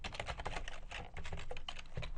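Rapid typing of code on a computer keyboard, a dense run of close, crisp key clicks at an uneven rhythm, fairly quiet and steady with no talking.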